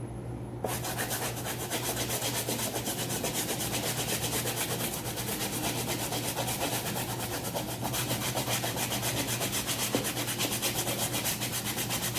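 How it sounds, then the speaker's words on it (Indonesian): Sneaker body brush scrubbing white canvas Vans shoes, a steady, dense rubbing rasp that runs without a break, close and loud and with no speech. "Kita akan pakai sikat body dari Sneaker 101 ini."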